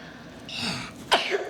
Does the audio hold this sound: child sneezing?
yes